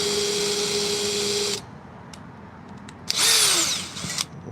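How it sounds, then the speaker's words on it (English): An electric drill bores into reclaimed roof wood for a rustic letter and key holder, a loud steady whine running about a second and a half, then quiet, then a second rising burst of drilling. "Let me get back this drill."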